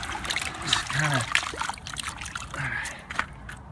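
Reef sand being rinsed in water, sloshing and trickling in irregular splashes and swirls close by, with brief lulls between stirring motions.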